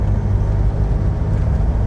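Land Rover Defender with a 2.2 TD4 Puma diesel engine, stage 1 remapped, pulling under light throttle in second gear: a steady, loud low diesel drone inside the cabin, with no talking.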